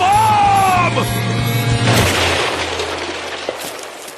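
A cartoon bomb goes off in a loud boom after a whooshing lead-in, then a broad roar of debris and rumble that slowly fades over several seconds.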